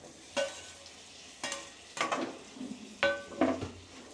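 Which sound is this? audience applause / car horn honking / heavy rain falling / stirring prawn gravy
stirring prawn gravy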